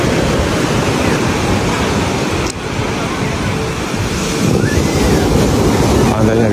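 Ocean waves at a beach beside a resort, a loud, continuous roar of surf with rising and falling swells, heard close and up front, with a brief dip midway and wind noise.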